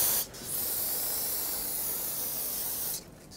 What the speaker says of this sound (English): Rinse it off with brake parts cleaner.